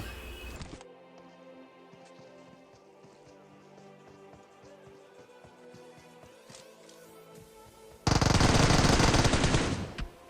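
Gunfire in PUBG Mobile from a rival team, with bursts of automatic shots crackling and thudding through the scene, then a loud, dense volley near the end.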